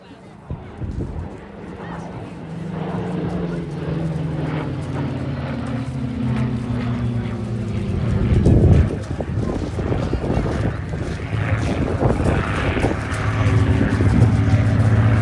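Spitfire fighter diving in at the Eastbourne Airshow 2024, an engine drone swelling from far to nearer and peaking midway, mixed with crowd and wind noise while an announcer talks over it.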